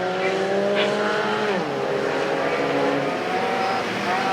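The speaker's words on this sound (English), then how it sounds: "Leader gets hit by a lap car, almost spins out." Mini stock cars race around a figure-eight track at Perris Auto Speedway during a night main event, engines droning loudly and continuously with pitch shifts as cars pass and a brief tire squeal.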